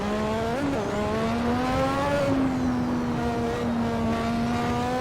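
A Lotus 98T Formula 1 car in the Assetto Corsa racing game gives a continuous, close, high-pitched engine whine. The pitch slides and shifts between gear changes as it pulls down a straight, with no talking.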